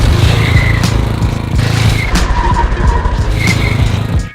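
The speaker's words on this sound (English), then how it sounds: "It's actually another power brake with a slide on the end." A car power braking into a slide to start a drift, engine roaring steadily with tires squealing and skidding loudly and continuously throughout.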